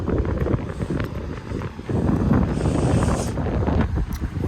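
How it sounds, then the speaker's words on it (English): Strong wind buffets the microphone with constant low rumbling gusts, rising and falling without a break and no voices. "It's windy as."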